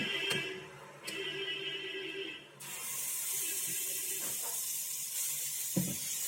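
Green gram adai batter meets a hot griddle with a broad, steady sizzling hiss that rises about halfway through and holds, fairly close, with a few faint clinks and soft knocks, no talking.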